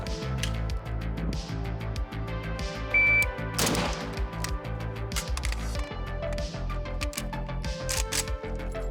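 A 5.56-calibre AK rifle fires a run of sharp shots, with a louder burst near the middle as the bolt locks open on the last round. The cracks sound somewhat distant and come without any talking.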